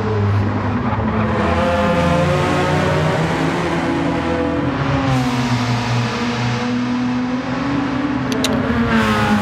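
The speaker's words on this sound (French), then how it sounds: "La Mazda contre la Toyota, les deux japonaises en bataille." Mazda and Toyota touring cars racing in Gran Turismo 7, engines roaring loudly and continuously with shifting revs and a dense whirring drone throughout, no talking over it.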